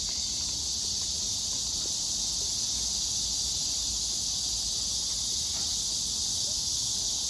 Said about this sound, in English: Do you guys hear the locusts or cicada?